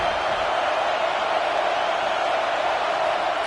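A packed stadium crowd in College Football 26 roars steadily and densely throughout, a continuous wash of massed cheering with no breaks or distinct voices standing out.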